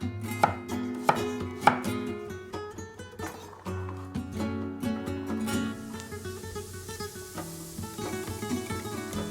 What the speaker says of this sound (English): So we're going to start with a couple of parsnips and some carrots, cut them up